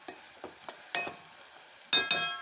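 Onions frying in a pan over a high flame for a beans and cauliflower curry, close-up sizzling broken by a series of sharp bursts as the spoon stirs and scrapes them, with no voices.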